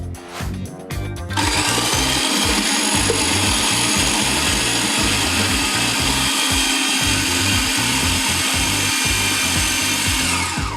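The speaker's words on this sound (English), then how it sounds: "it's actually better if you allow the processor to do the work for you" Food processor whirring steadily as it slices onions and ginger, a loud continuous motor drone with rough chopping texture that starts after a brief quieter moment and runs for about ten seconds.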